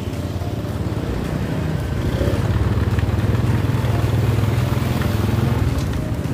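Steady engine rumble of motorcycles idling and revving nearby in a parking area at Kampung Rambutan bus terminal at night, a continuous low drone with a slight swell in the middle, no talking.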